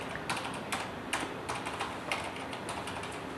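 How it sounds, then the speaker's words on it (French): Typing on a Corsair K70 mk.2 keyboard with Cherry MX Silent switches, a steady run of soft, muted key presses in an irregular rhythm, close-up and fairly quiet with no talking. "Voilà le son. Donc c'est un superbe clavier."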